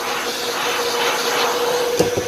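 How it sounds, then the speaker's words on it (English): A vacuum cleaner runs steadily and close, sucking sawdust off freshly resawn wooden boards, with a constant roaring whine and a couple of brief bumps as the nozzle moves over the wood. "vacuum over it, get all the sawdust off of it"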